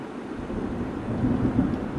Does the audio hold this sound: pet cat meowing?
no